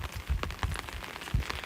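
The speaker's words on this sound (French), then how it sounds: "vous entendez vraiment le bruit de la pluie" Steady rain patters on a surface outdoors during a live street stream, a dense continuous hiss with scattered close drop impacts, fairly loud and alone with no talk.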